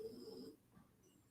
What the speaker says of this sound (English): The dog snoring down here.